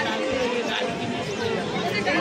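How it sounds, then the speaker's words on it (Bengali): Dense crowd chatter fills a busy Digha sea beach, many overlapping voices forming a steady, close hubbub with no single voice standing out. "অনেক ভিড় হয়েছে।"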